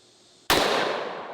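A single heavy gunshot from a large gun cracks out sharply after a moment of quiet, its loud blast decaying into a long echoing tail.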